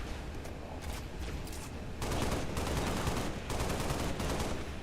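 Rapid automatic gunfire in the Halo: Reach video game, dense bursts of shots firing continuously and growing louder midway, with no talk.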